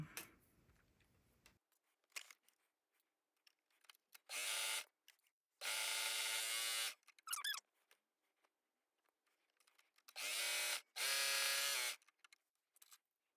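A sewing machine stitches down the seam of stretchy shorts in four separate runs, each a loud steady whir, broken by quiet gaps with small clicks and handling noises.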